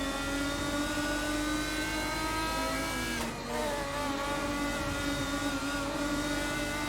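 Lister GT race car engine at Mugello in a racing video game, a loud sustained whine with rising pitch as it accelerates, a brief dip near the middle, then climbing again.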